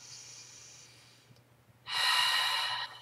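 A deep inhaled breath, a broad airy rush that swells suddenly and holds for about a second close to the listener, after a quiet stretch with faint hiss.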